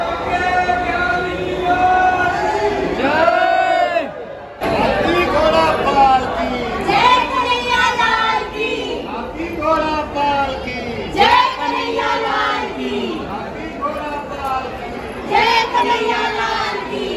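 A dense crowd at a packed Janmashtami temple celebration fills the air with loud chatter and voices, with people talking and calling close by throughout.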